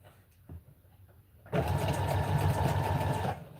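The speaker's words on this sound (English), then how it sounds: "Just put it slightly up under the first piece. And continue sewing." Sewing machine stitching fabric: after a quiet moment with a few clicks, the motor starts and runs as a steady, close, even whirring hum for nearly two seconds, then stops.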